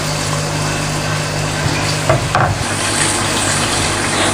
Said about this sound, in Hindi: ये मसाला भुन रहा है